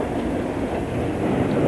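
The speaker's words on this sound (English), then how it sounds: "I've got a high-speed train and all sorts of things going past me here at the moment." A high-speed train rushes past at close range, a loud continuous roar of wheels and air with faint rhythmic rail clatter, steady throughout with no voices.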